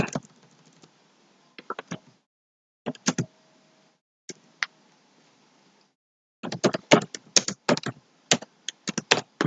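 Keys on a computer keyboard are tapped in short clusters separated by pauses, ending in a faster run of clicks, close and clear with no talking.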